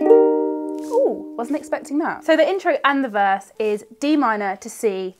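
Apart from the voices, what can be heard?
No everyday noise stands out behind the speech.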